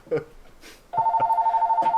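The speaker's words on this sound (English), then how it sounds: "The phone ringing during the podcast." A landline telephone rings inside a podcast recording room, a near, loud electronic warble that starts partway through and trills steadily, with brief talk heard over the start and during the ringing.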